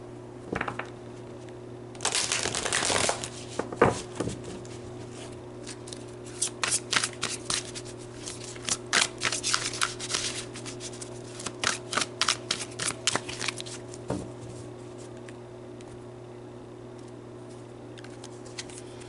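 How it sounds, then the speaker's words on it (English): Tarot cards are shuffled and drawn by hand: a burst of riffling and slapping around the two-second mark, then a long run of quick, crisp card flicks and snaps close by, over a steady low hum with no talk. "let's pull some more tarot cards"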